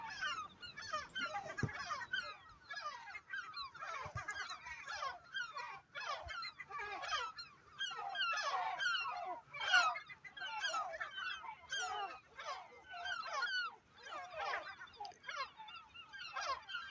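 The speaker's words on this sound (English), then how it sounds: "There was an unholy racket being made there by all the seagulls as I rode" A large colony of seabirds on Holy Island off Scotland's west coast keeps up a noisy racket of overlapping honking, squawking calls, some close and loud, others farther off, in continuous bursts with no talk.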